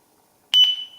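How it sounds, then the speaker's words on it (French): A single short electronic beep from a Eufy doorbell confirming pairing with its base station sounds after a moment of near silence, a clear high tone that rings briefly and fades. "Voilà, le bip."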